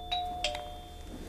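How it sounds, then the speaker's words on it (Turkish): A doorbell rings with two bright, clear electronic ding tones in quick succession, the second ringing out and fading over a low room hum, with no talking. "zil çaldı"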